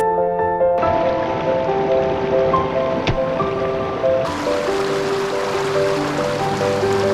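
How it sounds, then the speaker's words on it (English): Rushing water pours and gurgles close by as water bottles fill from a mountain stream in the Swiss Alps near Gotthard Pass, at about 2,600 meters, over a steady wash of flowing stream noise. "We are filling up our water."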